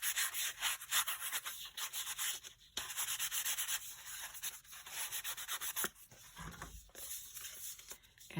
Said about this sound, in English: I'm going to take some sandpaper block, and just scuff it up just a little bit